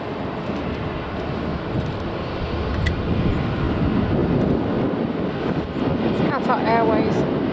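A Boeing 787 Dreamliner taxis at Manchester Airport. A steady, broad engine rumble carries on throughout, swelling slightly toward the end, with wind noise on the microphone and a brief whistling tone near the close.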